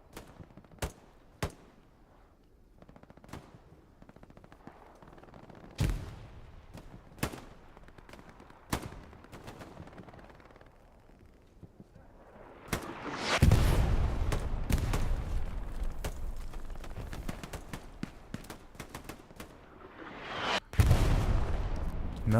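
Grenade blasts and rifle and machine-gun fire from a large Hell Let Loose battle on the Pierre's Farm map, with sharp distant shots spread throughout and heavier, louder rumbling explosions arriving in the second half.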